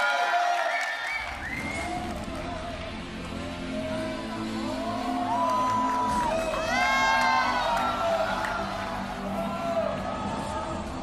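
A church congregation at a sending-off worship service breaks into loud cheering, whoops and rising shouts that swell in a big indoor crowd and stay dense throughout.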